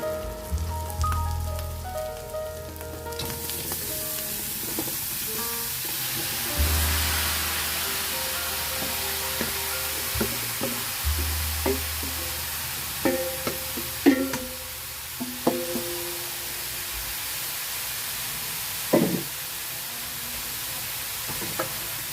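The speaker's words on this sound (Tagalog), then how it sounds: "Haluin lang natin." Jackfruit being stirred into cooked pork in a pan for ginataang langka, with a steady sizzle and scattered spoon scrapes and clacks that grow sharper toward the end, heard alone without voices.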